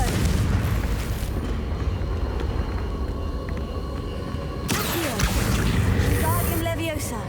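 A blasting-spell explosion from a Hogwarts Legacy game lands as a deep rumbling boom, and a second louder burst follows partway through over busy game sound, with a voice talking over it.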